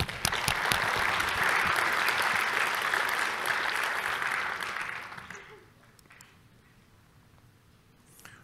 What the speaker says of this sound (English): A quick round of applause for their work